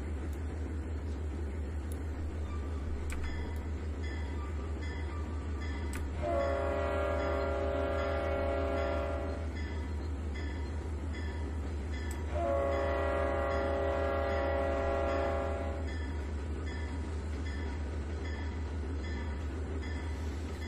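In the Trainz 2019 train simulator game, a steady low rumble of a train runs throughout, broken by two long, loud horn blasts, each lasting about three seconds.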